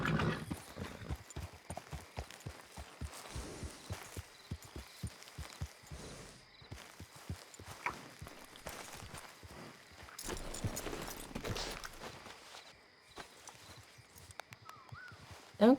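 Horse hooves clip-clop at a steady walking pace across open grassland in Red Dead Online, close and moderately loud, with a brief whinny-like flourish near the end.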